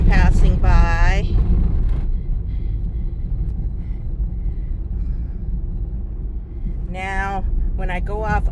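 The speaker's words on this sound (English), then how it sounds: "Yes, it's noisy on the dirt road" A car rolls along a rough dirt country road, with a loud continuous low rumble and road noise throughout and someone talking over it at the start and end.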